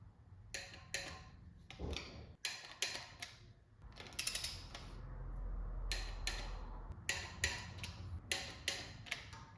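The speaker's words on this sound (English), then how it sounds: "everything gets torqued down 3 steps" A torque wrench tightens LS1 V8 cylinder head bolts with crisp ratcheting clicks in repeated quick bursts, close by, separated by brief pauses and a short low rumble in the middle.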